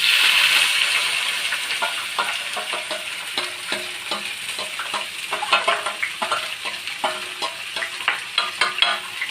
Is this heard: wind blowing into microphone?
no